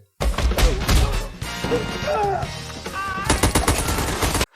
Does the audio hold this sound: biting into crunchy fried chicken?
no